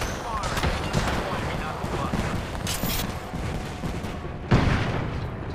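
Gunfire in a sci-fi shooter video game, rapid bursts of shots and impacts crackling steadily throughout, with a sharper blast near the end, under a player's voice at times.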